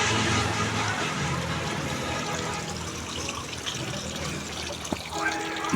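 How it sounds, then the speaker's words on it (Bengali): Fountain water trickles and splashes steadily inside a café restaurant in Kapasia, Gazipur, a broad continuous wash of running water with a faint murmur of voices beneath and a brief louder knock near the end. "রেস্টুরেন্টের ঝর্ণা"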